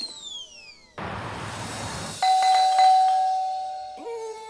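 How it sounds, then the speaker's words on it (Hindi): An electronic doorbell chimes indoors, clear and fairly loud, with a sustained tone that rings on after a short burst of noise and then fades. "फिर से घंटी बजा के भाग गए तुम लोग?"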